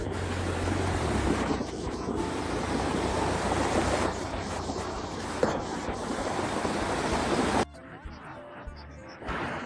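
Rushing floodwaters pour through a flooded area in a steady, loud, broadband roar, with a sudden quieter stretch near the end.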